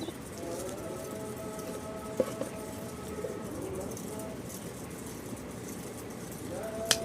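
Domestic pigeons, including a white pair with feathered feet, coo softly at a loft in Rajshahi against a steady background hum, the calls faint and scattered across the clip.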